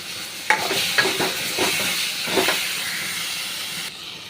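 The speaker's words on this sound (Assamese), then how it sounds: "তাৰে মই পেষ্টখিনি ঢালি দিওঁ" Paste of ground chilli, garlic and a little onion poured into a hot pan for a fish curry with potato, hissing and sizzling steadily with a few stirring scrapes, close and fairly loud, no voices.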